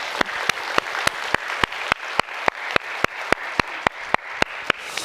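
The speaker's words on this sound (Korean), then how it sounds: "하나님 아버지께 영광의 박수 올려드리십시다" A church congregation clapping together during a Sunday worship service, with loud, evenly spaced unison claps in a steady rhythm over a bed of scattered hand claps.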